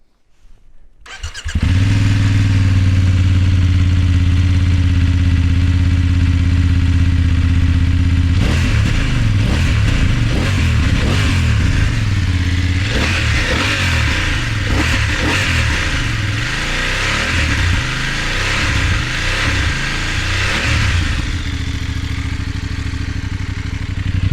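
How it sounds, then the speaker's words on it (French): A BMW F 800 GS 2024 motorcycle engine starts and settles into a loud, steady idle, then gets several sharp throttle blips and revs with a rough, clattery edge before returning to idle, heard close up with no talking. "il faut quand même que je te fasse écouter le bruit du moteur"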